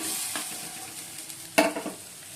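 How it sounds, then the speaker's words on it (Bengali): Spices sizzle and get stirred in a hot pan before potatoes go in, a steady frying hiss broken by a sharp scrape of the spoon against the pan. "ভালো করে কষিয়ে তারপর আলুগুলো দেবো"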